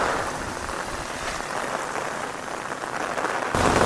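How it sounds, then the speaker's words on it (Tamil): Heavy rain pours during a storm in Chennai, a dense, steady roar of downpour throughout with no voices, getting slightly louder near the end. "இங்கே பாருங்கய்யா, பயங்கரமாக மழை பெய்யுதுயா."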